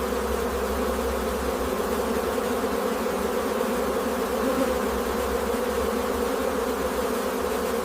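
Honey bees swarm around a large commercial apiary, their dense, steady buzzing droning loud and close without pause.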